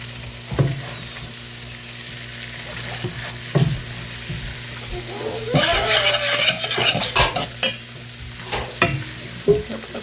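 Onions sizzling in a pan as more are added and stirred, with loud bursts of frying hiss, scraping utensil strokes and occasional clanks of the pan.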